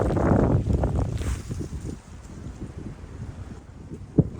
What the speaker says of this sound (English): wind is really picking up now